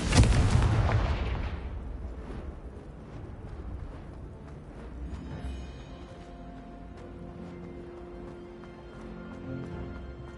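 In a Harry Potter video game, a Confringo spell sets off one loud, booming explosion that rumbles and fades over a couple of seconds, leaving quieter background music and ambience.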